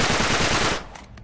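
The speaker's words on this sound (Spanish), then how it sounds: "Atrás, dispararé la cerradura." Loud gunfire burst from the video game Uncharted 3, fired at a lock: dense, continuous shots for most of a second, then a sudden cutoff into a faint ringing tail with a couple of soft distant knocks.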